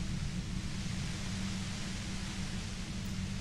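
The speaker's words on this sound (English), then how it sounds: "Aggressive white noise fills your skull." A harsh, aggressive wash of white-noise static in the game Disco Elysium, steady and dense across the whole span with no breaks, filling the space at an even level without any talk.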